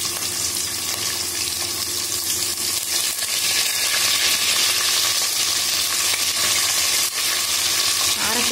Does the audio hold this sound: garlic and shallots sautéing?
yes